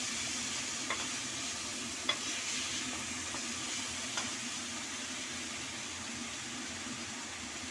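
Green chili paste is stirred into a frying mixture, a steady soft sizzle under a few sharp spoon scrapes and taps against the pan, close and moderately quiet.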